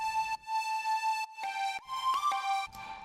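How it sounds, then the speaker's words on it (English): A looped pan flute sample treated with overdrive, reverb and compression, breathy sustained tones repeating in short phrases with brief gaps, fairly faint, with no talk. "I've added a bass line and a bit of a pan flute melody"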